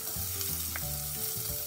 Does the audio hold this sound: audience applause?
no